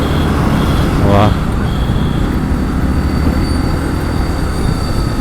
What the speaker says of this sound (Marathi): मी पहिल्यांदा बघितली यार इथून ट्रेन जाताना